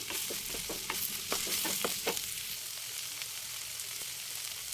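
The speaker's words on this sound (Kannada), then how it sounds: "ನಂತರ ಪಾಲಕ್ ಸೊಪ್ಪು ಕಟ್ ಮಾಡಿ ಇಟ್ಕೊಂಡಿದ್ನಲ್ಲ ಅದನ್ನು ಹಾಕ್ಕೊಂಡು ಹುರ್ಕೋಬೇಕಾಗುತ್ತೆ" Chopped spinach stir-fried in a hot pan, with bursts of scraping and clattering stirring over a soft sizzle that quiets toward the end.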